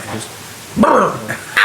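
Someone gives a short, playful imitation of a dog bark, a single voiced yelp after a brief pause, with conversation around it.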